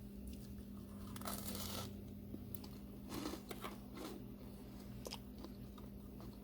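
Crispy jumble cookies being bitten and chewed up close, with a few crunchy bursts over a steady low hum and no talking.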